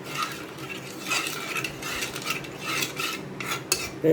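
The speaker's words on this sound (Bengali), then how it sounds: "সেজন্য আমি নেড়ে নিতেছি ভালো করে ঠান্ডা" A spoon stirs and scrapes around a pot of sago and cornflour fruit dessert in irregular, close strokes, with no voices.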